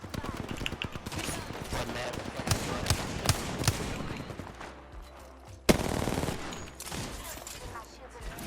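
Rapid gunfire rattles steadily through a match of the video game Apex Legends, dense bursts of shots close up for most of the stretch. One sharp, louder blast lands near the end, with a player's voice talking over the action.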